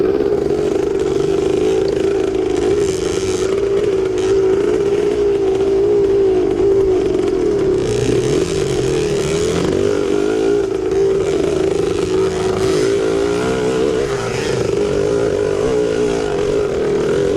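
A 1974 Yamaha MX360 vintage motorcycle races in a cross-country event, its engine a loud, constant two-stroke drone that rises and falls with the throttle as it rides along, without any talk.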